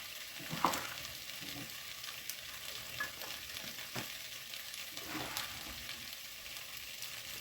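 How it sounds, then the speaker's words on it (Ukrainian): Button mushrooms sizzle steadily in a pan, with occasional scraping clinks of a utensil stirring, fairly quiet and without talk. "А зараз я смажу шампіньйони."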